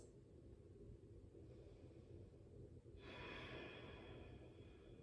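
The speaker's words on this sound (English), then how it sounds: "Breathing in and out through your nose." Slow, steady breathing in and out through the nose during a morning yoga practice, a soft airy hiss that grows fuller and louder for the second half, close but quiet with no voice.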